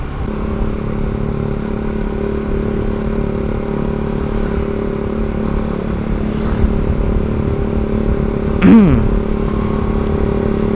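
A Honda CBR150R motorcycle rides along with a loud, continuous engine drone and wind rush. A brief clattering burst comes near the end.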